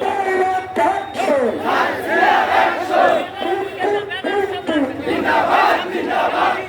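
A large crowd at a Gaza solidarity rally in Bangladesh chants the Nara-e-Takbir slogan, loud massed voices rising and falling in repeated call-and-response waves.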